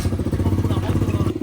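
A small pit bike motorcycle engine catches and runs right after a kick-start, its rapid, steady putter loud and close throughout, with a faint clatter on top.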